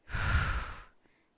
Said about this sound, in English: Inhale, inhale, big exhale.